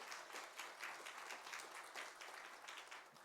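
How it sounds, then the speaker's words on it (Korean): A church congregation applauds a youth group during a Sunday worship service, steady, dense clapping from many hands in a large room, fairly distant and fading slightly at the end. "우리 청소년부 박수 한번 해주시면 좋겠습니다"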